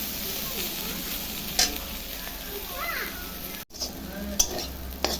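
Potato and bitter gourd sizzle steadily in a pan while a spatula scrapes and stirs, with a sharp clink near the end and faint background voices.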